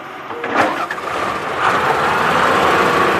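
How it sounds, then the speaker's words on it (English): An excavator engine runs steadily, rising slightly in intensity partway through, with a broad mechanical rumble and no voices. "Excavator."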